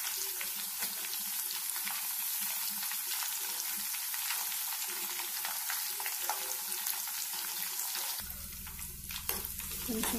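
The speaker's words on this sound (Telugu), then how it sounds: "కొంచెం బాగా వేగనివ్వాలి వీటిని." Mustard seeds, cumin, curry leaves and dried red chillies frying in plenty of oil for a tomato pickle tempering: a steady, close hissing sizzle with faint crackles, and a low hum joining near the end.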